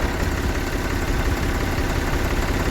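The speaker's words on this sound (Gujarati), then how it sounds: "ટ્રેક્ટર ચલાવવાનું તો ચલાવો ધીરે ધીરે" A tractor engine runs steadily while sowing fertilizer with an automatic seed drill in a field, producing a loud, constant low rumble and throb heard up close without pause.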